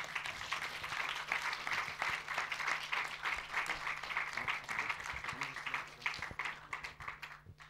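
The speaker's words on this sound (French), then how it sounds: "je pense qu'on peut les applaudir un petit peu" An audience applauds after a behind-the-scenes talk on choreography for the piece Passage, sustained crowd clapping that stays fairly even and moderately distant, with a faint low hum underneath.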